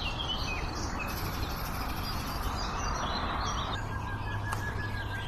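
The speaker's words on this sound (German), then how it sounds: "Das ist der sogenannte Nachtigallenschlag." A nightingale sings outdoors in a meadow biotope, a loud, full song of rapid repeated notes and trills carrying over a constant hiss of background noise, with no one talking.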